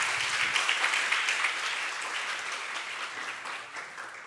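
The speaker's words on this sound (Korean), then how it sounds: "나오실 때 큰 박수로 맞이해 주시기" A church congregation gives loud applause to welcome the pastor to the pulpit during a joint worship service, a thick wash of many hands clapping that gradually softens over a few seconds.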